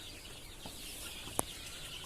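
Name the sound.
chicks clucking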